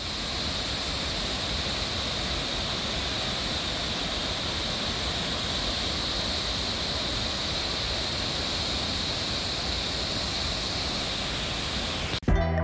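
Umbrella waterfall below Bhandardara dam releasing about 500 cusecs of water, a dense, steady rushing roar that stays even and close throughout, with a brief bump of handling noise at the very end.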